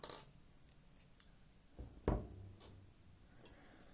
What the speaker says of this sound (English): And then you can just snip that off, leaving a little tail.